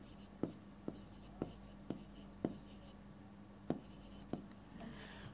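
Chalk or marker strokes on a board during a chemistry lesson, landing as a series of sharp, evenly spaced taps, about one every half second, close and clear over a steady room hum.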